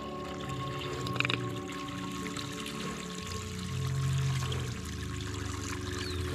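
Water pouring from a hose for heifers on a dairy farm in Cañar, a quiet continuous splashing and trickling flow with a faint background hum and a brief brighter gush partway through.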